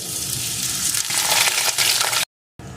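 Potato pieces fry in hot mustard oil in a pan, a steady loud sizzle and crackle with no talk, broken by a short silent gap near the end before the sizzling resumes.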